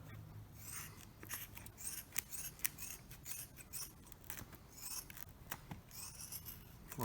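Scissors snip steadily around the edge of an orthotic base plate, a quiet series of close, crisp cutting clicks and rasping strokes, alone with no talking.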